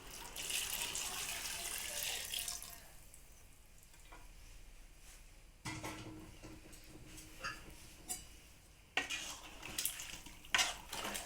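Water left from boiling country chicken pieces is poured into a pot with chana dal, a soft splashing hiss, followed by faint sizzling and intermittent clinks of a spoon against the vessel.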